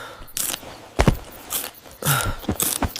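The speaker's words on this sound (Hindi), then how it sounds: "जैसे कोई चबा रहा हो, हड्डियां तोड़ रहा हो।" Wet chewing mixed with sharp cracking and crunching bursts, like bones being snapped, come in several close, loud, irregular bites for a horror story sound effect, with no talking.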